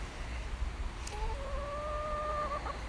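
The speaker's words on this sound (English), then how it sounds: "You just need these 4 chickens." One of four backyard chickens in a home garden lets out a single drawn-out, tonal call lasting about a second and a half. It sounds at moderate distance over steady outdoor background noise.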